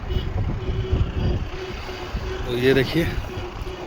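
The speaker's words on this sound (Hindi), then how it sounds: "यहाँ से ये झरना शुरू हो रहा है। ये देखिए नीचे चलते जाइए, ये देखिए, और इस गहरी खाई में ये गिर रहा है।" Steady broadband roar of a waterfall plunging into a deep gorge in Darma Valley, continuous and fairly close, with someone talking over it throughout.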